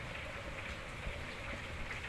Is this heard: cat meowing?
no